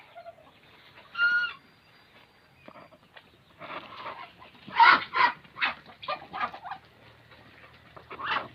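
Asil chickens clucking on a farm, with several short bursts scattered across the clip and a denser run of calls toward the end, fairly close and moderately loud, with no talking.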